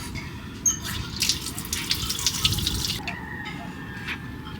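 Mangoes freshly picked in Grenada are rinsed under a running tap, a steady close gush of water splashing over fruit for the whole stretch, with a few brief louder spatters.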